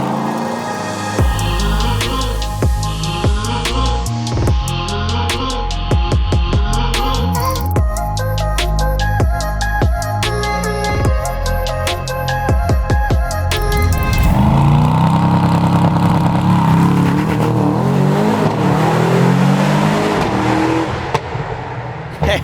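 Powerful SUV engine in loud exhaust mode, starting up and revving hard with a string of sharp throttle blips and crackles, then a sustained loud roar, close and dominant throughout.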